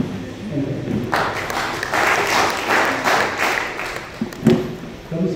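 An audience claps at a Kannada folk song performance of the kamsale tradition. A burst of steady, close applause lasts several seconds and then thins into scattered claps. A voice speaks briefly near the start.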